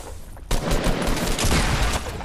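Dense bursts of automatic gunfire in Fortnite Battle Royale erupt suddenly after a quieter moment and continue as a loud, sustained rattle of overlapping shots.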